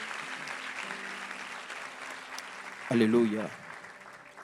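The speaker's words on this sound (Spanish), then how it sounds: "Dele un aplauso al Señor." A church congregation applauds during a sermon, with moderate steady clapping that fades as a voice calls out over it.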